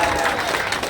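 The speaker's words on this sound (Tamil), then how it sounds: "நம்ம கைத்தட்டுங்க பார்ப்போம்." An audience at an Independence Day celebration claps in a short, dense burst of applause.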